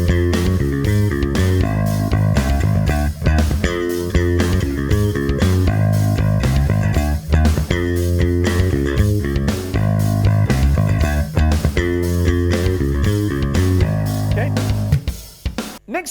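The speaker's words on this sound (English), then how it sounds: "So now let's just have a listen at full speed, 118 beats per minute" A bass guitar plays a riff at full speed, 118 beats per minute, with a band backing track. The notes are punchy and rhythmic and run steadily and loudly until a brief drop near the end.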